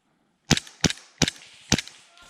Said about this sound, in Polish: rzucił swój granat, na szczęście trafił w drzewo, które jest przede mną